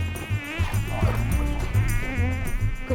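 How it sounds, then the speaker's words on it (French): A dense swarm of mosquitoes on Europa island, whining in a continuous, close, high-pitched drone with wavering tones and no voices. "Comment ça se fait qu'il y ait autant de moustiques?"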